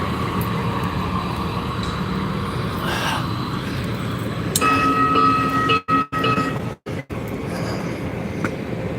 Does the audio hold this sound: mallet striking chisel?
no